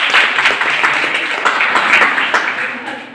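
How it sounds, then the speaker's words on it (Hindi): A college audience of students breaks into loud, sustained clapping for a fellow student, a dense wash of hands that fades slightly toward the end. "हर्ष जी के लिए जोरदार ताली आएगा"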